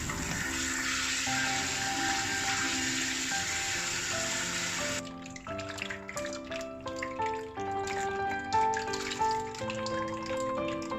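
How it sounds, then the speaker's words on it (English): Cabbage for homemade kimchi is rinsed under a running kitchen tap, giving a steady hissing, splashing stream for about five seconds that then stops. Soft background music plays throughout, and no one speaks. "wash the cabbage thoroughly under running tap water"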